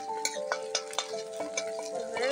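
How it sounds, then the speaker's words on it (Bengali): Cumin seeds sizzle in hot oil while a utensil stirs the pan, sharp rhythmic scraping clicks roughly every quarter second over a soft, close frying hiss. "এখন দিয়ে দেবো একটুখানি জিরে"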